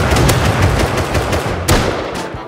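Rapid gunfire from the Rust video game, dense bursts of automatic shots crackling loud and close, with a couple of sharper louder reports standing out across the stretch.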